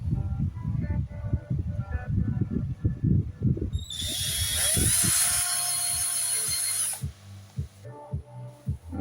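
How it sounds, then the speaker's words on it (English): A power drill drives screws into an Traxxas X-Maxx RC car, its high whine rising to about three seconds of loud continuous spinning after a speaking voice, then cutting off. "Now this needs screwing from both ends, so let's do this end"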